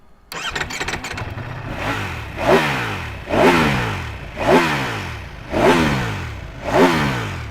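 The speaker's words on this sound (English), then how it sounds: "can you rev up your bike?" A Ducati motorcycle engine starts and is revved hard five times in steady succession, each throttle blip rising then dropping back to idle, loud and close.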